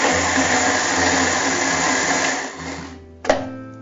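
A kitchen mixer grinder whirs loudly, grinding rice batter with green chili and ginger for pesarattu dosa, a steady high motor drone that winds down near the end, followed by a sharp clunk.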